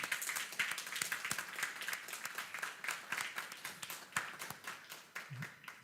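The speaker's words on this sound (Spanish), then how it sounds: "También un fuerte aplauso." Applause at a national commercial arbitration competition as a finalist university team is announced: a fairly faint but continuous wash of many hands clapping, with crisp individual claps standing out throughout.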